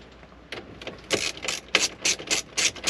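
Screws being tightened with a ratcheting tool while a double-DIN stereo goes into a Chevy Silverado dash: a run of short, close clicking ratchet bursts in a steady rhythm, no speech.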